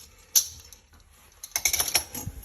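A knife cutting through laminated croissant dough for cube croissants, with a sharp single cut followed by a run of crisp, close slicing sounds.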